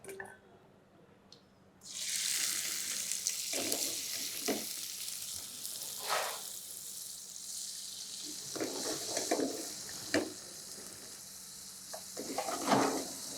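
Garam masala frying in hot oil with onions going in, a quiet steady sizzle that swells after a soft start, with occasional stirring scrapes and clinks and no speech.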